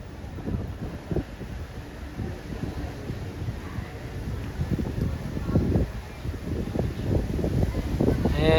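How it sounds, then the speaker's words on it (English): Gusty wind buffets the microphone in low rumbling bursts on Dovercourt Road in Toronto, steady throughout with no voices. "And it is windy."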